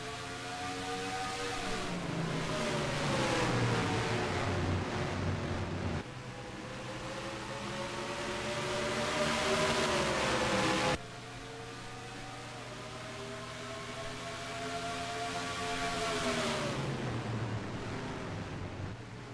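Stock cars in a racing video game accelerating away from the green-flag start at Loudon, engines climbing in pitch through repeated upshifts with clear drops at each gear change, a loud continuous pack roar.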